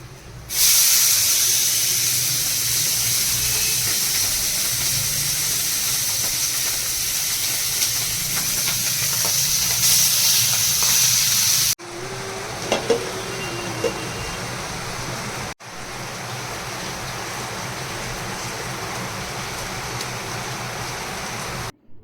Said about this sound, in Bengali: এখানে আমি কাঁচা লঙ্কা আর কালো জিরে ফোড়ন দিয়েছি অল্প তেল দিয়ে